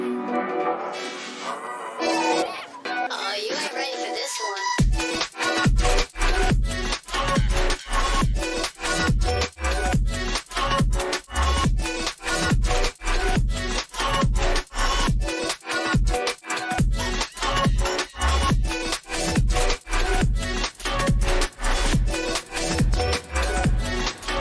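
A reggae instrumental concept track opens with a brief swirling intro, then settles into a steady, loud groove of regular off-beat hits over a deep bass line that repeats evenly to the end, with no voices.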